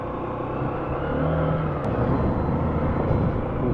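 A motorbike engine strains steadily on a final steep uphill stretch, a continuous laboring drone that swells slightly as the climb goes on, with no talking.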